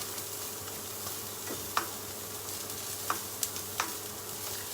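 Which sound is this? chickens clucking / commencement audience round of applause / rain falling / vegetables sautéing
vegetables sautéing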